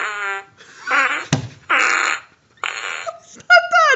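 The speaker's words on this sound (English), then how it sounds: "We are trying to fart." Loud fart sound effects fired from a soundboard, several in a row: buzzy, sputtering blasts of varying length with short gaps between them, close and alone.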